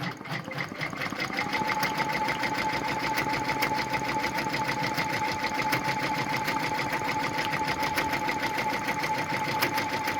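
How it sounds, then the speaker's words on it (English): A Brother PR1055X embroidery machine stitching with gold metallic thread at a speed of 400, giving a loud, steady, fast mechanical rattle with a constant whine that runs without a break, close up and alone. "So I'm going to go ahead and stitch that stitch right now. And this is with that gold metallic thread."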